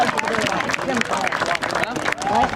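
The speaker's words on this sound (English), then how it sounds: "Have a big round of applause for number 13, Gage Milliman." A gym crowd at a senior recognition night claps and cheers for a player, the applause thick and continuous, mixed with crowd babble and voices.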